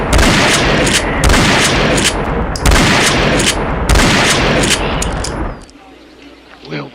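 Rapid bursts of gunfire in four loud, sustained volleys over about five seconds, followed by a quieter tail, with shouting voices mixed in.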